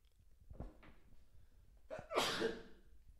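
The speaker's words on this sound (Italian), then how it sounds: "Scusate, ma ho un raffreddore allucinante, devo starnutire." A person with a bad cold sneezes once, loudly and close, after a short sharp gasp and an indrawn breath, followed by a faint exhale.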